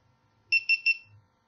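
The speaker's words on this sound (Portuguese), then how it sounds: "Apitou, ela tá ligada." A GoPro Hero 4 Silver action camera powering on gives three short, evenly spaced high-pitched beeps in quick succession, clear against a quiet background.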